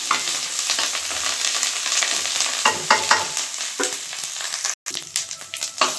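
Curry leaves crackle and sizzle steadily in hot oil, with stirring scrapes in the pan and a brief pause near the end.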